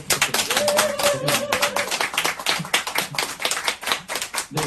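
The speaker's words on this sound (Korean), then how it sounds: "박수 한 번 더" An audience at a poetry reading applauds in a dense, steady patter of many hands, with a short spoken phrase partway through.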